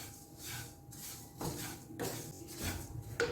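Homemade bread crumbs, golden and dried out, are stirred in a pan and give repeated dry scraping, rustling bursts at an even rhythm, close and fairly quiet.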